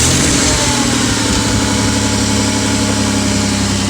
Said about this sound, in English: let's go ahead and bypass all of this and start the car